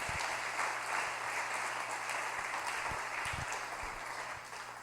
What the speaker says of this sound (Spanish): Denle un aplauso al Señor por esa libertad que Él te ha dado